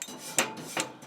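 Debris is scraped off Ninja FlexFlame grill grates in two quick, distinct rasping strokes, close and moderately loud, with quieter rubbing between them.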